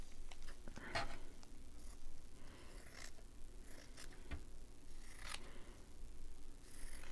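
Scissors trim a piece of tea-dyed cheesecloth, giving a few faint, scattered snips and light clicks against a quiet background, with no talk.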